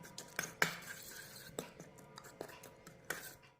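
Cat food being mixed in a bowl, with a few sharp clinks of a utensil against the dish among soft scraping and stirring, quiet and close with faint whispering in the background.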